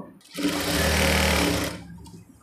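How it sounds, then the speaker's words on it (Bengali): An electric sewing machine stitching fabric for a maxi dress runs in one steady, loud whirring burst of about a second and a half, starting and stopping cleanly, with no talk over it. "একইভাবে আমি পরের কাজটাও সেলাই করে নেব।"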